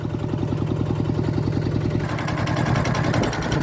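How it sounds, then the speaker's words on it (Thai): A farm tractor engine chugs while plowing fertilizer into furrows, with a rapid, even low thumping that grows slightly louder and rougher partway through as the throttle rises. "จะเร่งเครื่องเบาๆนะครับ"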